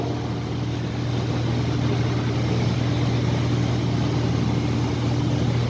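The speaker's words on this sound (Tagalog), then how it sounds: "This is the electric pump." An electric fire pump runs steadily with a loud, constant motor hum and a strong low drone over broadband whir, unchanging throughout, with no voices.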